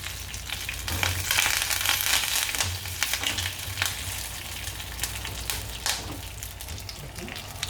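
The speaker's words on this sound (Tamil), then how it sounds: "கொஞ்சம் போல் அந்த கருவேப்பிலை பொரியறதுக்கு மட்டும் எண்ணெய் விடுங்க" Curry leaves crackle and spit in hot oil for a mushroom masala, a dense, close sizzle with sharp popping bursts scattered throughout and no one speaking.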